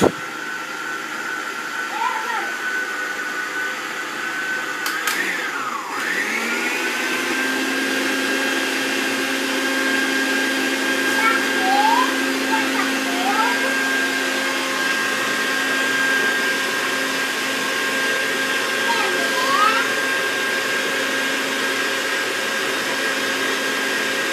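Electric hand mixer beating cupcake batter after the milk is added, a steady loud motor whine that starts abruptly and runs continuously with slight pitch shifts as the beaters work, brief voices over it.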